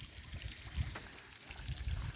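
A garden fountain in an autumn flower garden gives off a steady, soft trickle and splash of running water, faint and continuous with a few slightly louder gurgles.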